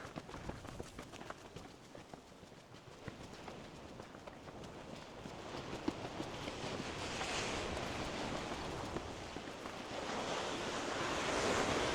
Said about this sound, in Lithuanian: Kokios bangos.